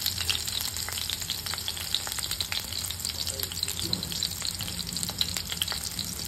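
Potato pieces dropped into green chili frying in hot oil for rajgira upma set off a dense, continuous crackling sizzle, close and loud, with brisk stirring clicks throughout and no voices.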